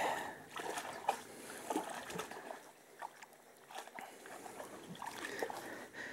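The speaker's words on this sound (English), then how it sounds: "Molly's gonna do a little wading" Molly the dog wades through a shallow woodland stream, making soft, intermittent splashes and sloshes that are faint and close, over a quiet trickle of running water.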